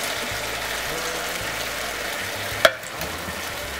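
Coconut milk being stirred into a sauce in a pan: a steady low simmering hiss with soft stirring, and a single sharp clink of a utensil against the pan near the end.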